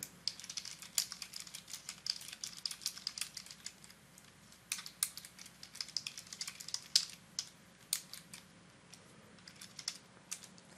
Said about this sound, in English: You just type in your note.